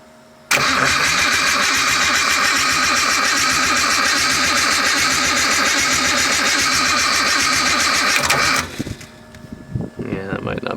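The engine of a 190DET project car with no proper intake fitted cranks and fires, then runs loud and rough for about eight seconds before shutting off, followed by rustling and a voice.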